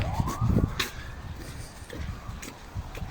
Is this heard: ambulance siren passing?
yes